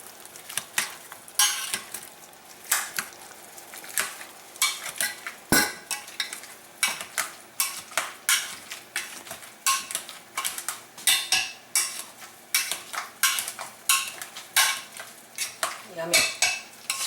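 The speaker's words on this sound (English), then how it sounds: "And then now I'll start mashing." Gumbo ingredients are mashed in a pot with a utensil, giving a steady run of scraping, clinking knocks against the metal, repeating roughly every half second and fairly close.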